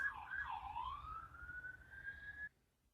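A single siren wails in the distance, sweeping down then rising in a long tone before cutting off abruptly, faint over a low background hum.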